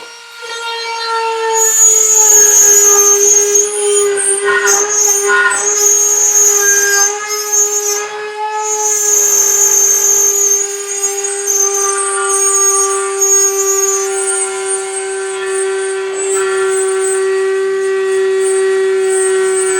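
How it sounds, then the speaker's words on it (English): A rotary tool cuts a hole through a kayak hull, starting from a drilled pilot hole. A loud, steady high-pitched whine runs for about twenty seconds, with rough scraping and grinding as the bit bites into the plastic. "I drilled a pilot hole here kind of for where I can insert the rotary tool"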